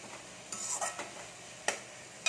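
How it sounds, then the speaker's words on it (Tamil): Brinjal and garlic sautéing in a pan for kathirikai peratal, a quiet sizzle broken by a few short scrapes and clinks of a spoon stirring against the metal. "இது நல்லா வதங்கட்டும்"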